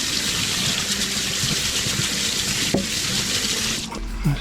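Water running steadily from a kitchen tap while something is rinsed, a continuous splashing stream with small clatters near the end.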